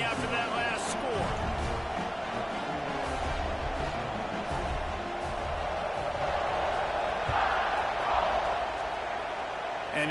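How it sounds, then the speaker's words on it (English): A stadium crowd in the College Football 26 video game keeps up a dense, steady roar, a broad buzzing wash of many voices that swells slightly toward the end, with commentary voices talking over it. "this crowd is buzzing after that last score"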